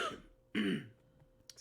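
A man clears his throat harshly and gives a short, phlegmy cough, close to the microphone in a quiet room, followed by small faint noises.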